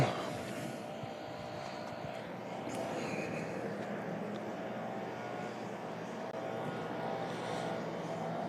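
An American Airlines Airbus A319 arriving at Louisville International Airport gives a distant, steady jet roar over outdoor background noise, growing slightly louder toward the end.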